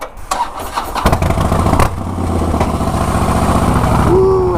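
A motorcycle, newly back from repair at the shop, starts up with a loud, close crank and then catches into a steady, rumbling idle that builds slightly in level.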